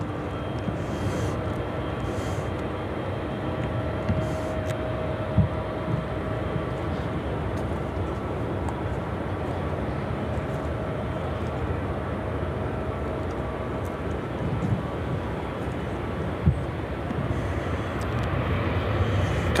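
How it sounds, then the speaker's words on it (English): A Boeing 777 freighter airliner at Chicago O'Hare airport, a steady broad distant jet roar that holds level for the whole stretch, with a few faint clicks and no clear talk. "Cargo King heading over here to the south. It's a 777 freighter."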